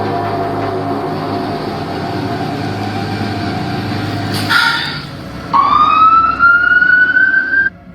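An ambulance siren from a played video wails with a rising tone and builds loud after a burst of rail-like rumble and noise, ending abruptly.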